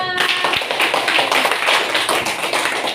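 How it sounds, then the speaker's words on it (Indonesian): A classroom of students applauds a classmate, a dense burst of close, steady clapping that lasts throughout without talk. "berikan tepuk tangan kepada Deva"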